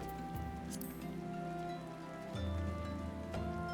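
Steady rain patters over a layered musical backdrop in the Final Fantasy XIV game world, a continuous soft hiss of drops that keeps on without a break beneath the tones.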